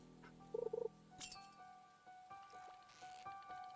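Steady soft rain patters in the Stardew Valley game, a quiet wet hiss running throughout, with a few brief game chimes and tones layered over it.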